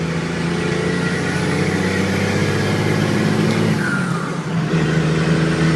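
A six-speed Cummins diesel Dodge truck cruises in sixth gear, its deep, steady engine drone and road rumble filling the cab at close range, with a faint whine rising briefly near the end.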